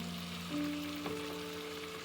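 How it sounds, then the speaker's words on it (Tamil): Aubergine curry with turmeric in a frying pan gives off a faint, steady sizzle with a soft stir partway through, heard close and alone with no talking. "கலரை கொஞ்சம் கூட்டுறதுக்காக மஞ்சள் போடுறோம். கிளறி விடுவோம்."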